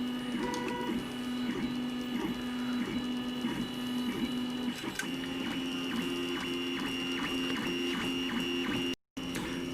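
3D printer printing the base for a remote-controlled paintball gun platform; a continuous whine of stepper motors with repeating rhythmic tones and movement patterns, close and steady, briefly cutting out near the end, with no talking.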